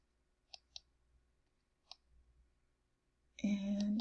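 A few sharp, faint clicks of a computer mouse in a quiet room, two quick ones in succession and another a second later, followed by a brief louder electronic tone.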